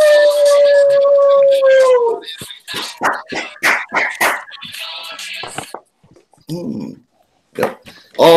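A single long sustained howl imitating a wolf for a wrestler's ring entrance, followed by someone talking in bursts with short pauses.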